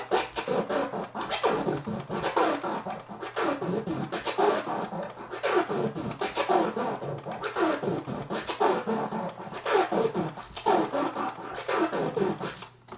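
A DJ scratches a record on a turntable in a four-click orbit with the crossfader, repeated rhythmic forward-and-back scratch bursts with choppy cuts, close and fairly loud.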